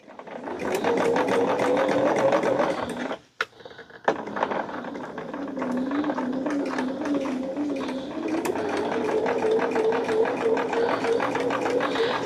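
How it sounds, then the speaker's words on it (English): A sewing machine stitches steadily along a fabric flap at a quarter inch from the edge while making a picnic caddy. The even, close mechanical whir breaks off briefly near the middle and then resumes. "Okay, so now I have to sew these in place."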